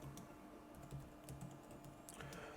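A Logitech MX Keys keyboard clicks softly and quickly as someone types in short, even runs, fairly close and quiet over a faint hum, with no one speaking.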